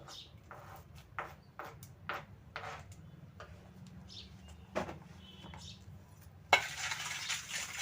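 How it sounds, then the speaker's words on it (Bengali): A spoon stirs cucumber pickle with white vinegar, chopped chillies and pickle spice, making a series of light clinks and wet scrapes against the bowl at irregular intervals, ending in a louder splashy clatter. "ভালো করে মিশিয়ে নিচ্ছি চামচের সাহায্যে"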